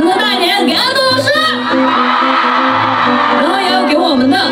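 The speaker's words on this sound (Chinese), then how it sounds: "掌声再大一点，给安栋老师。" A concert audience at a live show cheers and applauds loudly and steadily, with whoops and shouts, while a voice carries over the crowd.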